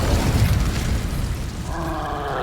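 Incendio fire spell cast in Hogwarts Legacy, a loud roaring whoosh of flame and rumble that holds steady, with a tonal magical shimmer rising near the end.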